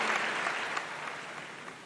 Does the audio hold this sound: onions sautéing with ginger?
no